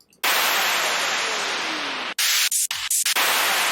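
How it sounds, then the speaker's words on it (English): A synthesizer white noise sample plays as a loud, steady hiss for about two seconds, then breaks into short choppy bursts and gaps. "Some of these white noises are pretty sweet."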